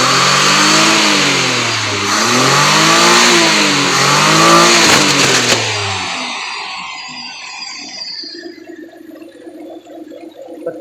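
A 1984 Daihatsu Charade engine with a carburettor is revved hard at full throttle, a loud close rising and falling roar for several seconds. It then dies away to a quiet, uneven idle.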